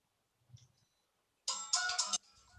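A phone ringtone for an incoming call bursts out loudly after a near-silent pause, a bright electronic melody lasting under a second before trailing off, with a faint murmur just before.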